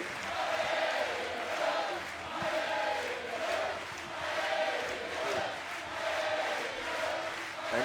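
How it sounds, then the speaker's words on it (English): Hometown crowd chanting at a 3x3 basketball game in Nantes, France, a steady rhythmic chant from many voices rising and falling in regular waves throughout, loud and sustained with no talk over it. "the hometown crowd is chanting, letting Team France hear it"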